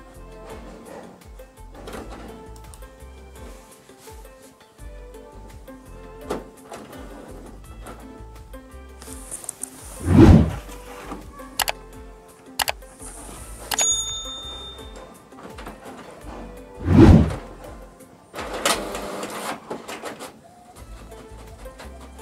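An HP Ink Tank Wireless 419 printer printing a test page, with intermittent mechanical whirs, clicks and paper-feed thumps, including two louder surges and scattered shorter clatters in a quiet room.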